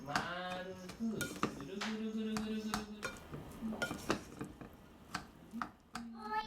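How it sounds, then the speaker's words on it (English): Roasted corn mixed into cooked rice: a spoon or paddle scraping and clinking against a pot in irregular strokes, with sharp clacks at intervals, fairly quiet and close. "Mix in the roasted corns."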